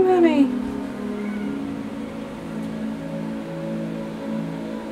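A cat gives one short, close meow at the start, followed by a person speaking softly and a quiet hum in the room.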